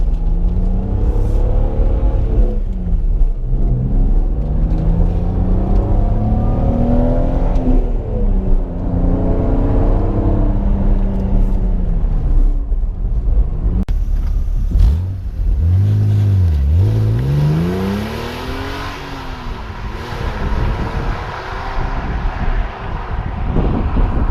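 A 2000 BMW M Coupe engine drones steadily while driving, then revs up and accelerates loudly, with wind buffeting the microphone.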